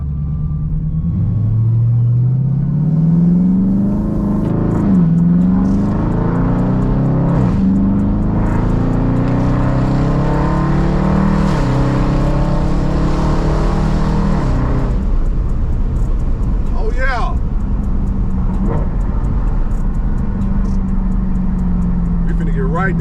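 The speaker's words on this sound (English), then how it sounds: "Put it in track mode, hit the gas, do pulls through the city" A 2020 Dodge Charger 392 Scat Pack in track mode pulls hard through city streets, its engine revving and rising in pitch through repeated upshifts, loud and continuous rumble from inside the car.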